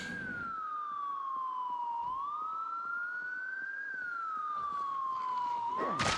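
A vehicle siren wails loudly and continuously in the Project Zomboid video game, sweeping slowly up and down in pitch across the clip with no talking over it.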